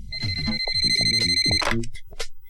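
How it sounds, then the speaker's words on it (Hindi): A telephone rings with a repeated electronic ringtone, its tones pulsing loudly and close for a couple of seconds before stopping, with no talk over it. "जाके फोन देखना प्लीज"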